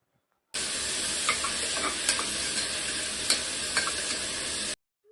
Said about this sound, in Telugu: ముందుగా కట్ చేసి పెట్టుకున్న ఆనియన్స్ పచ్చిమిర్చి అయితే వేసుకొని బాగా అయితే ఫ్రై అయితే చేసుకోవాలి